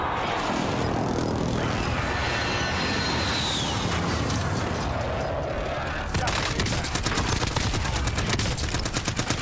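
Dense automatic gunfire in Call of Duty: Warzone, loud and continuous, with a burst of rapid shots building over the final seconds, while players talk over the action.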